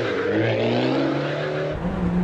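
A race car at the Isle of Wight Sandown speed sprint accelerates hard, its engine note climbing through the gears with a short drop at a shift, close and loud with no voices.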